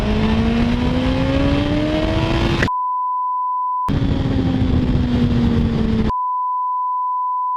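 A 2022 Suzuki Hayabusa motorcycle pulls hard in two loud, close bursts, its engine note climbing steadily through each run, with cut-off gaps and a steady tone in between.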